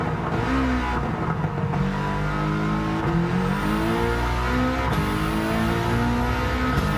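A Subaru race car in Gran Turismo 7 accelerates hard, its loud engine climbing in pitch through several gears with brief dips at each shift, steady and close throughout.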